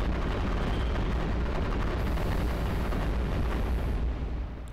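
Cannon turrets firing in the iBomber Defense tower-defense game, a loud dense barrage of booming blasts and rumble running continuously before tailing off at the end, with no talk.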